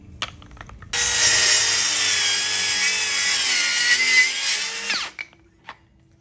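Cordless battery-powered saw cutting through wood, a loud continuous high whine lasting about four seconds before spinning down, with faint clicks of the tool before and after and no talking.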